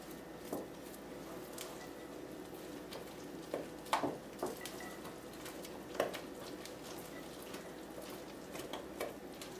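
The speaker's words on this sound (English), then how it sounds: "I'm using my spatula to mix" A spatula mixes pumpkin muffin batter, giving faint, wet squishing and soft scraping strokes at an irregular pace, quiet and close with nothing else going on.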